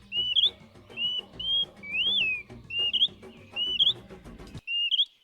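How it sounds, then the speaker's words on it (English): A Greater Pewee gives a string of clear, high whistled calls, some rising and falling like a wolf whistle, repeated about every half second to second in a close recording, with faint background noise underneath. "What does a Gregor Peewee sound like?"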